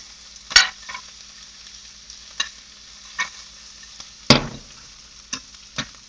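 Fajita taco filling fries gently in a pan on medium-high heat, giving a steady quiet sizzle broken by several sharp stirring scrapes spread through the clip.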